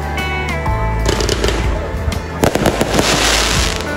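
Fireworks at a Japanese hanabi show crackle and burst in loud, rapid volleys, the blasts piling up near and dense with sharp crackling tails, faint crowd sounds underneath.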